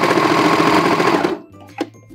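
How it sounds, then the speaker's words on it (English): A serger runs through three layered pieces of fabric for boxer briefs, giving a loud, dense mechanical whir that halts abruptly after about a second, leaving a brief click. "So go ahead and put all three layers together and let's run it through the serger."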